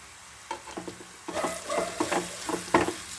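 Salt, turmeric and chili powder fry in a pan while being stirred for amla rice, with sharp close scraping strokes over a crackling sizzle that grows busier toward the end.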